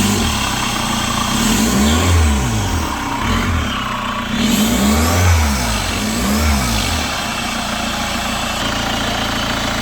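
Revving of a 2013 Chevrolet Captiva diesel engine with rough running and a heavy pull, rising and falling in several repeated throttle blips over a steady idle, loud and close.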